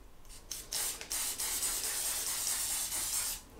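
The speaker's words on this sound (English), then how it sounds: "just spray it on" A few short puffs of a Yardley Gold cologne spray bottle followed by one long, steady hissing spray up close, then it stops.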